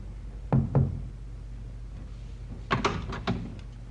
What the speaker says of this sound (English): knocked discreetly on the door to B24